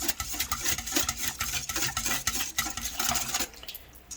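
A whisk beating yeast mixture in a bowl for homemade bread, giving rapid rhythmic scraping and clinking strokes, close and fairly loud, easing off at the end.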